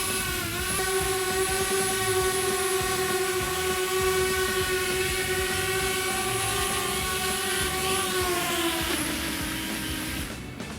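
A DJI Spark drone lands automatically: its propellers give a loud, continuous high-pitched whine close by, and the tone sags and fades as the motors spin down at the end.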